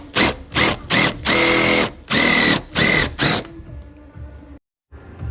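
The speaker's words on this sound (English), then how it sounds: "So to fix the pinholes, you just step drill them." A power drill with a step drill bit whines in a series of short bursts, about seven rapid pulses cutting rust pinholes in a Nissan GQ Patrol metal roof, then stops, leaving faint room noise.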